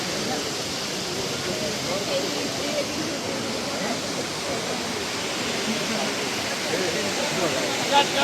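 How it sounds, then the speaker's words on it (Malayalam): A small stream of flowing water on the road from Marayur to Munnar makes a steady broadband rush, fairly close and even in level throughout. "ഇത് കണ്ടോ, ഈ ഒഴുകുന്ന വെള്ളത്തിന്റെ ഒരു ലേശം ഇതിലെങ്ങനെ പോകുന്നുണ്ട് കേട്ടോ"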